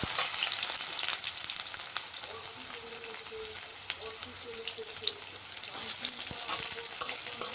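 Chopped onion sizzles steadily in a hot pan for a banana-flower fry with coconut and shrimp, a constant close hiss broken by faint stirring scrapes and clinks.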